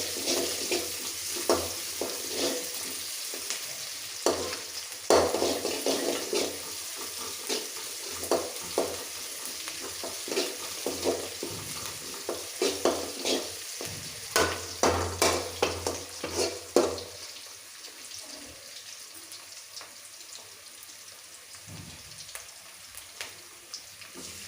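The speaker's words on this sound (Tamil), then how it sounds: "ஒரு 10 சின்ன வெங்காயம், கொஞ்சோண்டு கருவேப்பிலை, நல்லா பொன்னிறமாக வறுக்கும்." Small shallots and curry leaves fry in hot oil until golden for a South Indian kuzhambu, a sizzling hiss broken by repeated scraping stirs in the pan, quieting toward the end.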